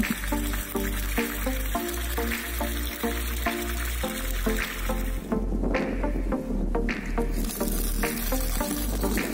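Water gushes steadily from a faucet fed by a pump from a plastic drum tank, while the motor throbs in a regular, repeating pulse underneath; loud and close, no voices.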